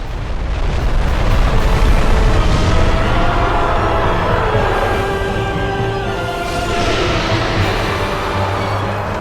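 Fire Tempest pyromancy spells cast in Dark Souls: a loud, sustained roar of erupting fire blasts that rumble and swell continuously, with no voices.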